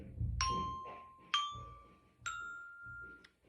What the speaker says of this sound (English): C on the little bells.